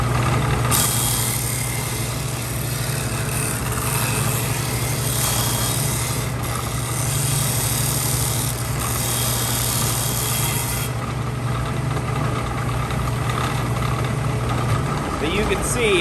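A disc sander spins up and sands, giving a steady, loud whirring grind with an abrasive rasp that holds for about fifteen seconds and then winds down near the end; people talk faintly underneath.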